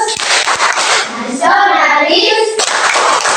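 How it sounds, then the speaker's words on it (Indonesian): A classroom group in Indonesia claps a rhythmic school chant, loud dense clapping with a brief sustained tonal passage midway, close and continuous. "Kita tepuk PPK dulu. Tepuk PPK."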